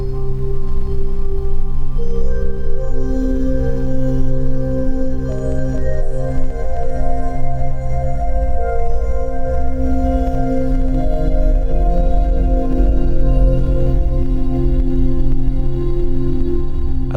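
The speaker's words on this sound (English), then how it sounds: "I love this patch because it gives you that super low hertz drone that you hear on board all the spaceships" A modular synthesizer patch producing a deep, low spaceship-engine drone, with layered sustained tones that slowly shift pitch, loud and steady throughout with no talking.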